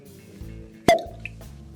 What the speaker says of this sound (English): Is that a cork pop or one of those toy cork guns?